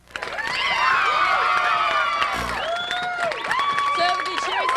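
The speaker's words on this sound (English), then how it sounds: "So the cheering section begin." Fans at a 2002 World Series Game 4 between the Anaheim Angels and San Francisco Giants roar continuously, with shrill whistles and shouts rising over a dense crowd cheer that briefly dips and surges again.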